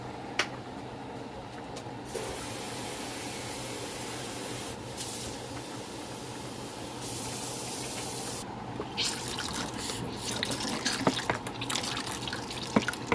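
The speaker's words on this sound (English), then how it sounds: "Add some water." Water streams steadily into a cooking pot with a soft, continuous rush, getting a little louder and splashier toward the end.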